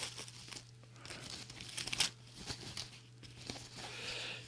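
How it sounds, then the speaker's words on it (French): Xbox One controller being unwrapped from its packaging, giving close, steady crinkling and tearing of plastic and paper with a sharper rip near the middle. "Alors on a la manette, donc hop, je vais la déballer."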